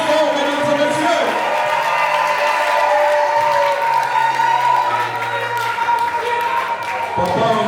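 Applause and cheering fill a religious wedding reception hall, a steady loud wash of clapping and crowd voices with whoops, mixed under a talking voice amplified through a speaker throughout.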